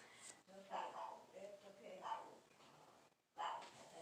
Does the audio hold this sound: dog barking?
yes